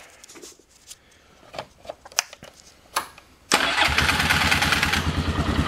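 A Polaris Sportsman 500 ATV with a newly replaced pulse coil gives a few clicks and brief cranking sounds, then fires up. It settles into a steady, loud idle close by.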